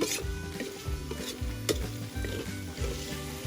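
Pork blood stew (Ilocano-style dinuguan) cooking in a pan, with a steady close sizzle and repeated stirring scrapes throughout, and no talking.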